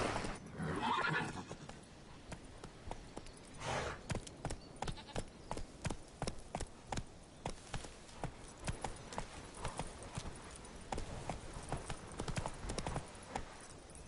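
Roach, the horse ridden through The Witcher 3 game world, gallops with a steady run of clip-clop hoofbeats and a loud whinny near the start, close and clear without talk.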